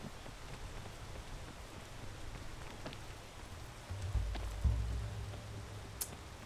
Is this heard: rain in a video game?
yes